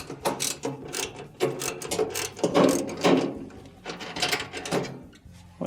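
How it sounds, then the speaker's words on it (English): An idler pulley from an LG dryer motor pulley assembly is turned slowly by hand under pressure, giving repeated squeaky, ratcheting mechanical creaks in an uneven rhythm, close and moderately loud with no talking. "make sure you put pressure and give it some slow turns to see if you can hear any squeaking"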